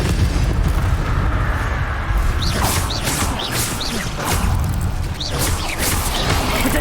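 Incendio fire spells cast repeatedly in Hogwarts Legacy, a continuous roaring, crackling blaze with booming bursts and whooshing flares throughout, loud and dense with no talk.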